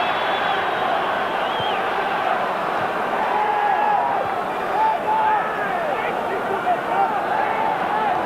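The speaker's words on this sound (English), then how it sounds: "the final crowd here are whistling him when he gets possession" A large football stadium crowd at the 1990 World Cup final between West Germany and Argentina keeps up a steady roar of jeers and whistles at Maradona, while a commentator talks over it.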